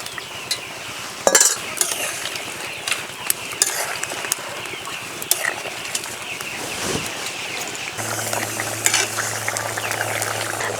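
Fish and potato curry bubbles in a pan while a spoon stirs it in scattered scrapes and clinks, over a steady simmer. Bird calls are heard in the background, and a low hum comes in near the end.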